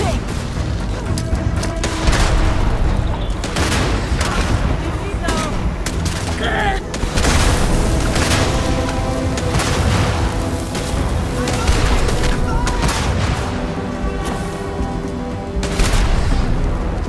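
Gunfire in the game Starfield: dense, loud volleys of shots and bursts with heavy booms, sustained throughout over game music and sound effects, with voices calling out between shots.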